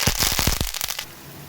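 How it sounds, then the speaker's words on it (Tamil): A rapid burst of sharp crackling pops as mustard and fennel seeds splutter in hot oil, loud and close for about a second before fading to a quiet hiss. "கொஞ்சம் சோம்பு, கொஞ்சம் கடுகு ரெண்டும் சேர்ந்து நல்லா பொரியட்டும்."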